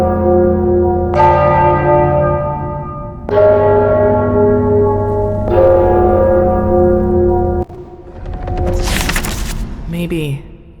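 Church-style bells ringing in the game Enderal, three long resonant tolls spaced about two seconds apart, each decaying slowly, followed by a sharp crack and clattering impact sounds near the end.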